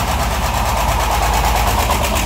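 A vehicle engine cranks with a loud, fast, steady rhythmic churn lasting the whole short clip, with no clear catch or rev-up.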